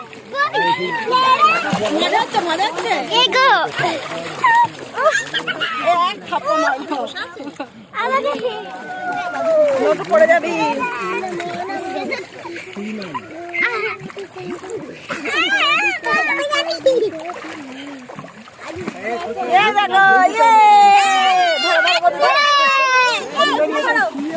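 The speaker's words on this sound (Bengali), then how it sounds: "আমরা স্নান করছি গঙ্গায়" Water splashing as people bathe in the Ganges river during a Barunir Snan bathing festival at Thakurnagar, steady splashes and churning close by under continuous talk and children's voices throughout.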